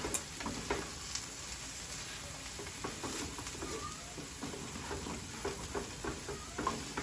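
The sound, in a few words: stirring shrimp scampi sauce with Parmesan in a pan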